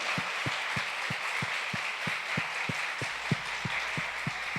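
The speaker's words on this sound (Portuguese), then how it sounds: "Um forte aplauso a Ele, por favor." Church congregation applauding in praise during a Pentecostal-style service, a steady wash of many hands clapping in an even, rhythmic beat throughout, moderately loud and without voices over it.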